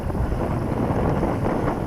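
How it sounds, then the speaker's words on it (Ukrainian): Strong wind gusting across a wild pond during carp fishing, a loud roaring rumble buffeting the microphone throughout with no pauses. "триногу валить, вітром здуває"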